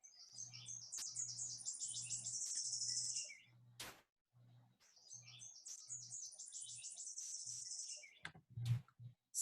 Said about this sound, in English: So I'm going to ask at the end what that bird was that was calling.